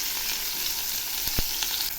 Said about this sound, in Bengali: এই মাছগুলো আমি একটু হালকা করেই ভেজে নেব